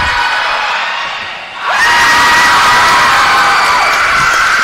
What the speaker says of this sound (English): that, ladies and gentlemen, is the crowd going wild for the first heat of tumbling